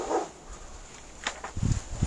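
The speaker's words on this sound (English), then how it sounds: "That's my neighbour's dog Jess, down the bottom." A neighbour's dog barks from down at the bottom of the property on a windy day: a brief cluster of a few barks near the end, moderately distant, with no talk over it.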